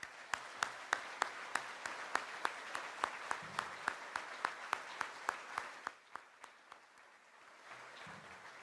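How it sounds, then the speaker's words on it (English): Applause for the women's basketball program at a Michigan State press conference welcoming the new coach: a small group claps in a clear, fairly even rhythm, then thins out and fades near the end. "let's clap for our women's basketball program"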